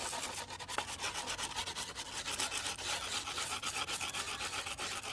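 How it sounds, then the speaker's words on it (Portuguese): Sandpaper rubs steadily and briskly against a skateboard, a close, continuous scratchy rasp with even back-and-forth strokes and no pauses. "E Angélica, pode lixar com força isso aí que."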